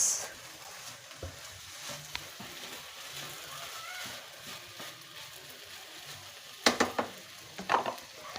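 Fried rice sizzling quietly in a pan after a splash of soy sauce, a steady low frying hiss with a few sharper crackles and scraping clinks near the end.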